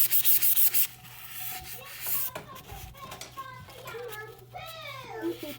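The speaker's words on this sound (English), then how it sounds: "Now you take a low grit sandpaper" Low-grit sandpaper scrubbing a tumbler in quick rasping strokes close by, loud at first then fainter and intermittent as a child and an adult talk over it.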